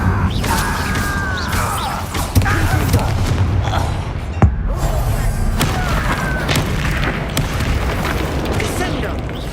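Incendio fire spell cast in the video game Hogwarts Legacy, heard as repeated booming, crackling bursts with sharp transient hits near 2.4 and 4.5 seconds, layered under game music and a voice speaking throughout.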